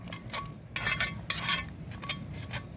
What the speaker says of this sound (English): we're gonna put all of the garlic and onions in